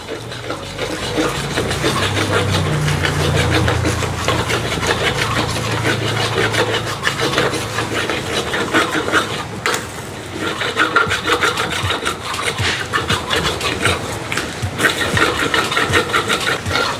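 Eggs are stirred with salt and chili powder, giving a continuous, close scraping and rubbing that runs throughout without any speech.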